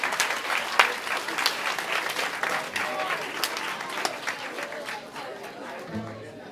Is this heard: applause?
yes